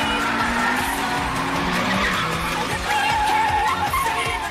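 Car tyres squealing and skidding during a mountain street race, a loud sustained screech over revving engine noise, with no talk.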